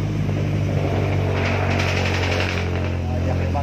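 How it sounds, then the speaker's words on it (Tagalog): A large vehicle's engine rumbles steadily and close by with a constant low drone, heard from up on top of the vehicle on a road trip from Sual, Pangasinan back to Tarlac City. "Ayan yung makina oh."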